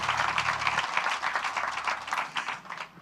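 A church congregation claps and applauds together, a dense, lively patter of many hands that runs steadily and tapers off slightly toward the end, heard from within the crowd.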